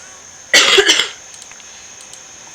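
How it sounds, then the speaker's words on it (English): A sick character in the life-simulation game inZOI coughs: a short, sharp burst of two or three harsh coughs up close. Faint game ambience follows, and no one speaks. "Who's coughing? I think he's sick."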